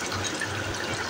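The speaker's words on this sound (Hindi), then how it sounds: "जितना मुझे पानी चाहिए उस हिसाब से डालूँगी।" Water pours steadily into a pot of gravy, a continuous liquid splashing and filling sound, close and fairly loud, with no voices.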